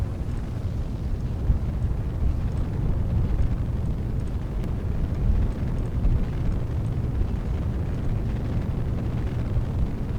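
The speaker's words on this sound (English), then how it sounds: "the rockets on this mod, the KWR mod, sound so well done" KW Rocketry mod rocket engines roar at liftoff in Kerbal Space Program, a dense, continuous low rumble that holds steady and loud throughout.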